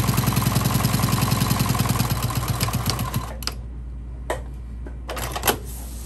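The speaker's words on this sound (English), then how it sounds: "And then I'm going to backstitch" A sewing machine backstitches a seam on a beginner fabric bag, running in a fast steady rhythm for about three seconds, then stopping, followed by a few brief clicks and handling noises.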